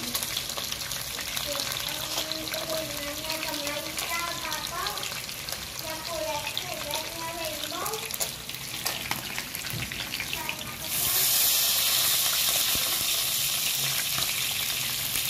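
Fish fries in a pan of hot oil with a steady, dense crackling sizzle that swells noticeably louder partway through and holds at that level.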